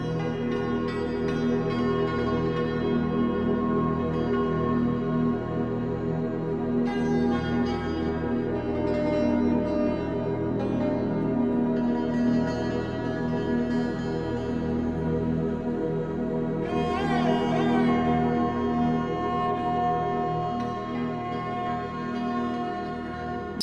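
World music excerpt from the 40 Hertz volume two collection: steady, layered tonal music with ringing bell-like tones, holding an even loudness for the whole stretch with no talking.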